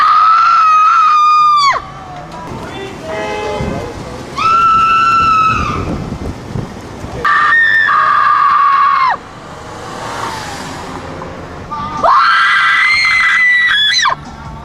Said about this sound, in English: heard the scream